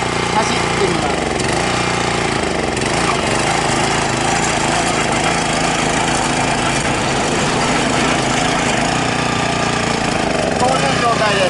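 A Kubota walk-behind cultivator engine runs steadily and loudly throughout, a continuous mechanical drone with a constant rumble and no break.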